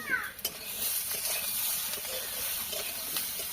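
Taro being sautéed in a pan with slit green chilies and salt gives a steady, fairly faint sizzle and hiss, with a few brief stirring scrapes near the start.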